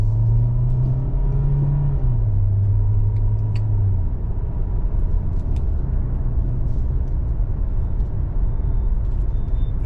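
A 2023 Hyundai Santa Fe plug-in hybrid SEL Convenience with a 6-speed transmission rolls down the road, giving a steady low engine and road rumble with a brief droning tone early on that then fades into continuous tire noise.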